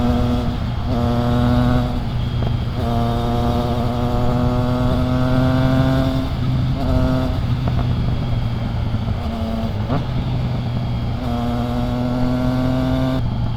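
A Honda CB650R motorcycle engine hums and revs steadily nearby, its pitch rising and dropping over a constant drone of traffic.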